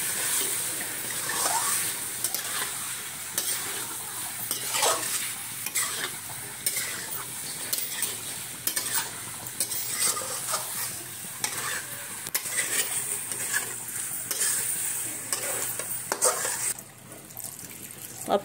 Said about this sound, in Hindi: इसको अच्छे से मम्मी मिक्स करेगी।